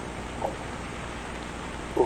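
Rain falls under high-altitude volcanic ash, a steady, even hiss of drops close by, with no voices.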